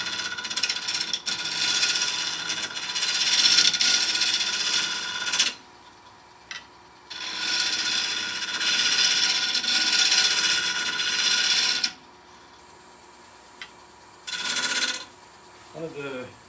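A wood lathe spinning at about 1,000 RPM smooths the top of a segmented bowl, with a harsh scraping tool noise in long bursts broken by short pauses where the lathe's hum carries on, close and fairly loud.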